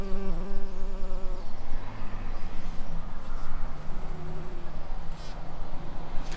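Bumblebees and honeybees buzz around eryngium flowers in an English garden in August, a continuous close hum of overlapping wings that swells and fades as insects move about, with no talk.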